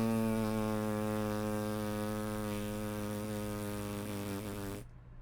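Lips buzzing into a trumpet mouthpiece, a steady, close, sustained nasal buzz holding one pitch for about five seconds before cutting off abruptly.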